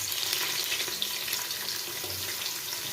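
Onions and green chillies fry in hot oil and ghee for chicken dum biryani, giving a steady, close, loud hiss and sizzle that runs unbroken, with no voices.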